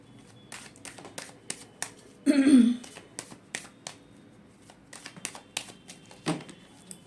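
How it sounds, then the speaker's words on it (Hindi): Tarot cards are shuffled and drawn by hand in quick, light riffling taps, with one longer, denser shuffle burst partway through. "नेक्स्ट एक्शन के लिए एक कार्ड ले लेती हूँ।"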